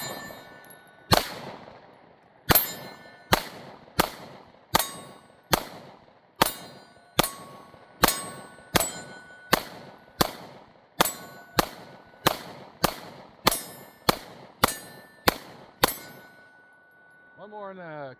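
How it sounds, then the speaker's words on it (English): Canik Mete MC9 and FN Reflex pistols fire at steel targets outdoors, a rapid string of about twenty sharp cracks each followed by a ringing metallic clang, evenly spaced with brief pauses. "we're going to shoot both of them together and see how well we can do here"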